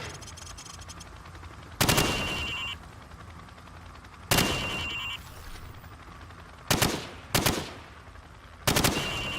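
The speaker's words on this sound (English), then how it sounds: "Now, shoot at the targets while firing from the hip." Video game gunfire as targets are shot from the hip: four loud bursts of rapid automatic fire, each lasting about a second, separated by short quiet gaps over a steady background hum.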